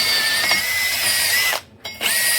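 A power tool scouring rust off a truck wheel hub during a brake caliper swap, loud whining at high speed, then a short dip as it slows and spins back up.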